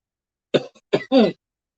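A few close coughs with a brief throat-clearing sound, short and sharp, surrounded by silence.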